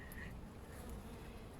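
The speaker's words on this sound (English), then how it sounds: "So the bees remain interested in this" Honeybees buzz faintly at an opened beehive during an inspection, a soft, steady drone of many insects with no talk.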